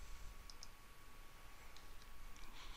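A few quick, faint computer mouse clicks in an order quick-print application tick over a low background hum, spaced irregularly and then clustered together near the end.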